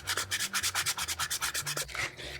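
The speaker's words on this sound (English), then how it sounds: "I'm going to take some sandpaper, and I like 220 grit, and I'm just going to start sanding the bucket." Sandpaper of 220 grit rubs over a paper mâché bucket in steady, even back-and-forth strokes, about a dozen close scratchy passes with a brief pause near the end.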